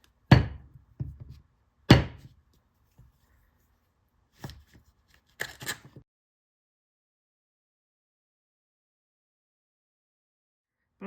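A blade slices cross sections from a porcelain clay cane, giving a handful of sharp close thunks spaced a second or two apart, followed by silence.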